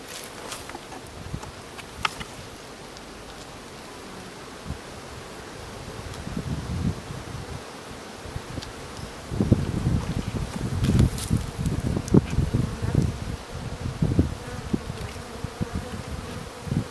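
A dense, steady hum of many honey bees buzzing up close at an open hive, with bursts of louder rustling and handling noise in the second half.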